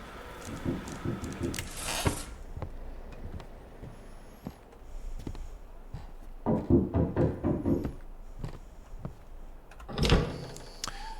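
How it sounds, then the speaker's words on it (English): Someone knocks at a door in the horror game Static Dread: a scattered series of sharp raps, a few clustered together, over a low hum with occasional louder mechanical swells. "I think somebody's knocking at the door."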